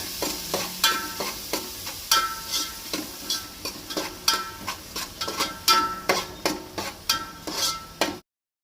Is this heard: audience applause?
no